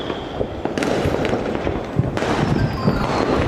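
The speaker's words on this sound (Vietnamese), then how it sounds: "Bây giờ có 4 phút là hết pháo rồi." Fireworks burst continuously at a village display in Nghi Loc, a dense, steady crackle and rumble of many overlapping explosions at moderate distance with no pause.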